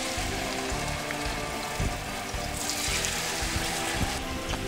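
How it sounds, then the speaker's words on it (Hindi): Fish coated in gram flour fries at medium heat in oil, giving a steady, dense sizzle and crackle that stays close and constant throughout. "इसको मीडियम पे फ्राई करेंगे।"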